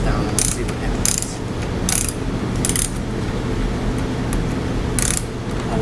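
Ratchet wrench cranking down an aftermarket Delkevic exhaust nut on a 2014 Yamaha FJR 1300 motorcycle, with short bursts of close ratcheting clicks repeating at uneven intervals over a steady low background hum.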